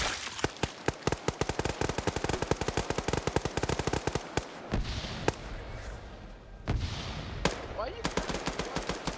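Machine gun fire in a military video game: a long rapid stream of sharp, evenly paced shots up close, then scattered single heavy bangs and thuds, with a brief spoken voice over the shooting.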